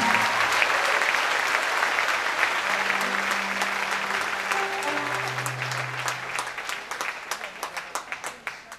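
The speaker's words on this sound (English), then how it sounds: "Clap for Jesus." A church congregation claps for Jesus, loud dense applause that gradually thins into distinct rhythmic claps. Voices speak and call out over the clapping.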